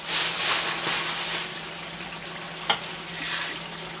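Moong dal with garam masala and fresh coriander being stirred in a pan, a steady near scraping and sizzling with a sharp clink of the spoon against the pan partway through.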